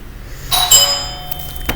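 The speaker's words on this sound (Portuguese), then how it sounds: "mas morando em casa, né, a campainha toca" A doorbell rings inside a home, a bright ding-dong chime with ringing tones that sustain and fade, heard alone and fairly loud against a quiet room hum.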